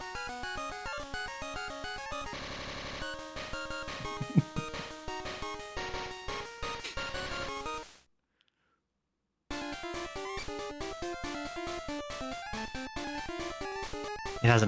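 Bright, high-pitched chiptune music from the Game Boy game Rockman World, pitched about an octave too high, plays in quick bleeping notes, cutting to silence for about a second before resuming.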